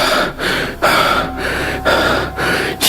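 Heavy, rhythmic panting from a man jolted awake from a dream in an animated Hindi story, several loud breaths in steady succession with short pauses between them, close and alone with no talk.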